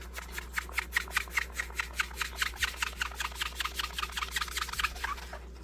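A magic eraser scrubs dirt from the finish of an old fishing lure in quick, rhythmic back-and-forth rubbing strokes, close and fairly soft, with no talk.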